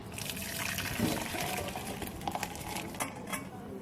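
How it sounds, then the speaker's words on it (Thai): Dandelion flower liquid for syrup is strained, a soft trickle and splash of liquid with light clinks of kitchenware, close and fairly quiet. "ลองกรองก่อนนะแล้วค่อยต้มใส่น้ำตาล"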